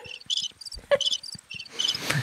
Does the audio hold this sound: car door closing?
no